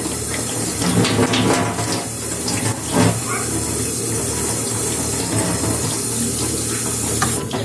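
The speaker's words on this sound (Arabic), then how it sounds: "بس هنقفل الميه" Kitchen tap running water steadily and fairly close, a continuous broadband splashing rush with small bumps in flow, no talking over it.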